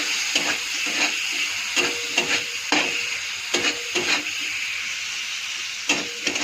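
Turmeric and salt are stirred into spices sizzling in a pan, a steady close frying hiss broken by repeated scraping strokes of a spoon at an uneven rhythm.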